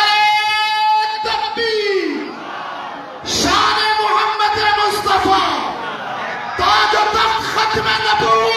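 A large gathering at a Khatm-e-Nabuwwat conference in a central mosque roars back in loud chanted unison to a call for takbir, in repeated swells of many voices, with a single amplified voice leading between responses.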